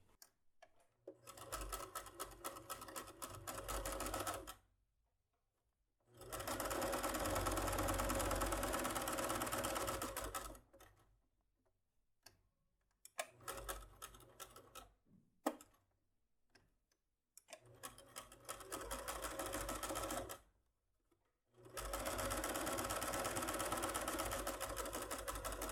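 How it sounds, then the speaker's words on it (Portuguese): A sewing machine stitches a small fabric zipper pull for a makeup pouch, running in several fast, rhythmic bursts separated by short silent pauses, close and steady with no talking. "vamos costurar aqui dos dois lados."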